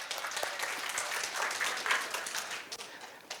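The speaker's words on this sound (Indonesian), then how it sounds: "Aplaus untuk kita semua." Audience applause at a training session, a steady wash of many hands clapping throughout at moderate loudness, fairly close and sustained without a break.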